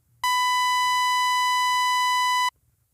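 A single bright, buzzy synthesizer sawtooth-wave tone rich in harmonics, held steady for a little over two seconds, then cut off, with nothing else around it.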